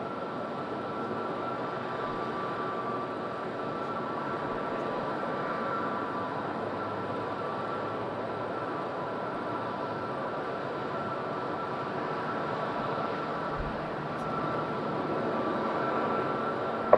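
A Wizz Air airliner approaches Madeira Island Airport on a windy day, its engines a steady, broad roar that holds evenly throughout with no talk.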